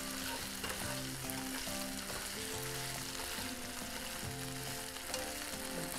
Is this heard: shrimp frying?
yes